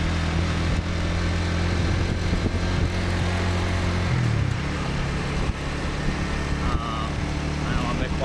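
A manual-transmission motorbike ridden along a street, its engine droning steadily with a pitch drop at a gear shift partway through, traffic noise around it, no talking.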